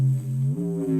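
A neuro wub bass synth patch built in Serum, a thick, gritty sustained bass with harmonic overtones that wobble and shift in pitch, heard alone and loud.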